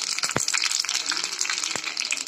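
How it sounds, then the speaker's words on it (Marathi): Mustard seeds and cumin hit very hot oil, a loud bright crackling sizzle close up with rapid sharp pops scattered throughout. "ह्याच्यामध्ये मी मोहरी जिरे टाकते"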